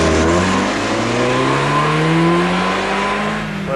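A Ford Escort XR3i MK5 accelerates hard on a test track, its engine note rising steadily in pitch as it pulls through the gears, loud and close throughout with no talking.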